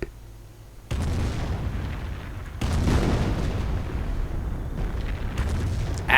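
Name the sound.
Nebelwerfer rocket artillery firing in a video game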